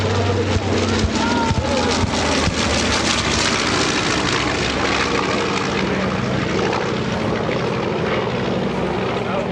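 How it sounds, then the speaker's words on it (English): A B-25 warbird bomber passes overhead at an airshow, its piston engines producing a loud, sustained broadband roar that fills the whole clip, with a voice talking over it. "Here comes B-25."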